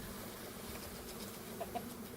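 Backyard chickens cluck faintly a few times in the distance, short soft calls near the end, beneath a steady hum from a nearby package of Italian honey bees.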